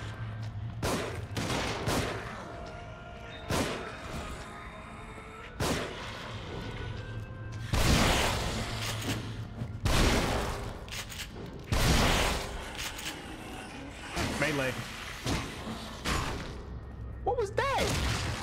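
Gunfire in the horror game The Evil Within, with heavy irregular shots and thumping impacts from near and mid distance, and a player talking intermittently between blasts.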